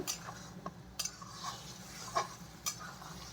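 A spoon stirs ladyfinger curry in a pan after water is added, giving soft, faint scrapes and a few sharp clinks against the metal over a low background.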